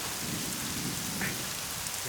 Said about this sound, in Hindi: इतनी बारिश में कहाँ चले गए?